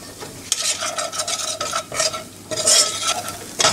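Fish masala spices frying in a pan while being stirred, with a steady close sizzle and scraping bursts of stirring throughout.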